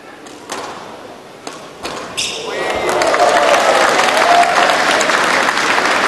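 Crowd applause swells and holds steadily at a squash match after a point in a women's semi-final at the 2017 SEA Games, starting with a few scattered claps and thuds before building into sustained clapping.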